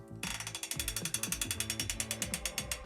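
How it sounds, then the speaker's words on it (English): A torque wrench ratchets as the preload screw on a bicycle crank is tightened to 10 newton-meters, a close, crisp run of about twenty-five evenly spaced clicks heard alone. "I will go back to the preload screw and tighten that to 10 Newton meters as well."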